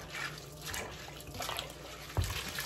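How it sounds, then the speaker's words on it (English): Water running quietly from a tap to rinse dust, dirt and sand off food left soaking, a soft steady splash close by with one brief louder slosh near the end. "Just going to rinse off any little particles of dust and dirt and sand that might be in there."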